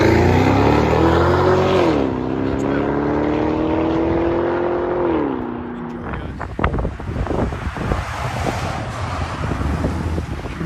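A Chevy Camaro SS with a 6.2L V8, rear muffler delete and 5-inch tips, revs loud and close with a deep, rising and falling exhaust drone, then drops to a rougher idle burble with wind buffeting the microphone.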